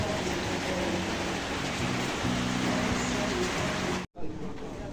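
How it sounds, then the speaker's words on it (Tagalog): Heavy rain pours steadily in a broad hiss, close and loud, cut by a brief dropout near the end before resuming. "Pagkatapos ng matinding init kanina, ayan naman, ulan. Ulan yung kapalit."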